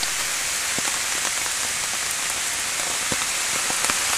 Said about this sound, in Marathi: पाऊस जोरात चालू झालाय आणि आम्ही एका झाडाच्या आडोशाला थांबलोय.